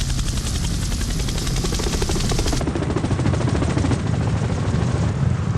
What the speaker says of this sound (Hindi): हेलीकॉप्टर टेक ऑफ किया।